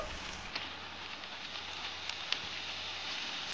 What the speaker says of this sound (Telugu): ఇప్పుడు మనం వీటిని డీప్ ఫ్రై చేద్దాం.